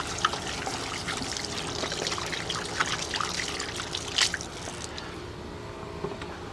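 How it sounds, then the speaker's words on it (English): Hands are washed under a running tap, a faint, continuous trickle and splash of water with a few brief louder splashes, alone and fairly quiet. "Probably wash the hands for a good time there."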